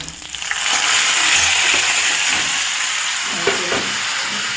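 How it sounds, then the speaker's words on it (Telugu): Curry leaves drop into hot oil and set off a loud, steady sizzle and crackle for tomato bath, a South Indian dish. The frying hiss stays close and continuous throughout, with no talk. "కరివేపాకు కూడా వేసేస్తున్నాం"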